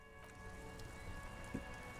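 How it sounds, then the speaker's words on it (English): Steady rain pours in the video game Disco Elysium at night in the city, a dense, even patter that runs the whole time alongside a faint tonal background, with no voices. "This rain will not let up anytime soon."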